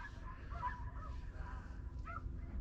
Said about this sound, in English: Now some dogs up there going nuts.